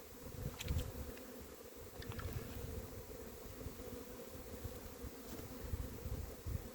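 Honey bees buzz steadily around a nuc hive, a continuous low drone close to the microphone with occasional louder passes, no voices.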